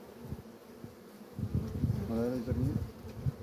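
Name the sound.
Asian hornets buzzing arriving at trap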